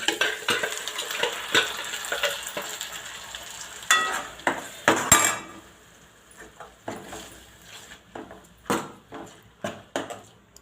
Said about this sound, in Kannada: ಇದು ಹಸಿ ವಾಸನೆ ಹೋಗೋರಿಗೆ ಫ್ರೈ ಮಾಡ್ಕೊಳ್ಳೋಣ ಎಣ್ಣೆ ಮೇಲೆ ಬರಬೇಕು ಅಲ್ಲಿವರೆಗೆ ಫ್ರೈ ಮಾಡ್ಕೊಳ್ಳೋಣ